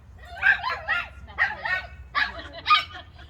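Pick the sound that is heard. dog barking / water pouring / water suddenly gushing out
dog barking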